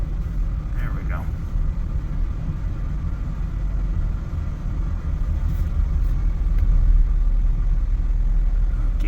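A car engine bogs under throttle with a steady low rumble and a muffled, labored drone that swells slightly toward the end, faint clicks above it.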